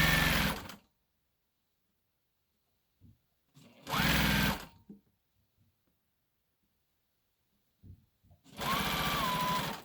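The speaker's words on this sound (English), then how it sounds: "So I'm just sewing the lining for now." A sewing machine stitches a prom dress lining in three short bursts of rapid, steady whirring, separated by quiet pauses with faint handling noises.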